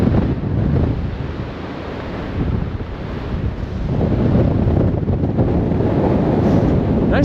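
Strong gusting wind roars across the exposed summit of Mt Kearsarge in New Hampshire, a loud steady buffeting on the microphone that swells and eases throughout with no speech.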